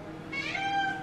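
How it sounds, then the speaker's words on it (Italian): A house cat gives a single short meow indoors, close and moderately loud, rising then falling over about half a second against quiet room noise. "Il gatto Denver non mi molla, tra l'altro."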